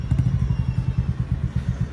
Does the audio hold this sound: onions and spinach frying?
no